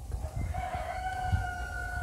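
A rooster at a farm crows once in a long drawn-out call, fairly near, over a low rumbling background with light clucking.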